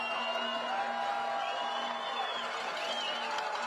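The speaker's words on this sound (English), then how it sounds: "Crowd's getting into it again" Crowd noise rises at a high school football game between Maroa-Forsyth and Williamsville, a steady wash of cheering and whoops from the stands that holds at an even level throughout.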